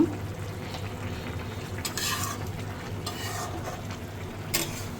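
Fish curry simmering in a pan on the stove, a steady close sizzle and bubbling with occasional brief utensil scrapes, no voices.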